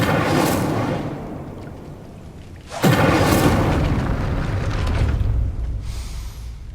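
A burst of spell fire in Hogwarts Legacy, a sharp whooshing flare with a deep booming onset followed by a roaring, crackling rumble that fades over a few seconds, loud and near.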